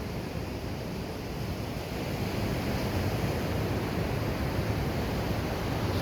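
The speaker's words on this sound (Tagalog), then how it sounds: "Grabe ang alon." Ocean waves and surf at an outdoor beach spot: a steady, loud, broad wash of rushing water and wind, continuous with no distinct breaks and no talking.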